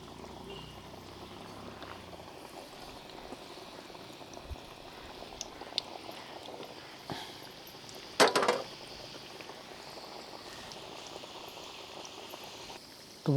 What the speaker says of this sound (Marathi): आता आपण ह्यातली एक एक करंजी तेलात सोडूया.